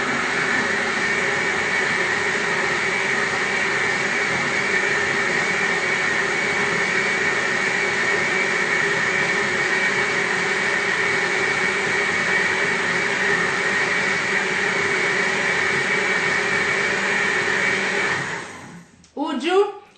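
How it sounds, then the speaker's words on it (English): Electric blender running at full speed while making Nigerian moi moi, a loud, steady motor whine and grinding roar that holds constant for most of the clip before cutting off abruptly near the end. "can you hear me over the blender?"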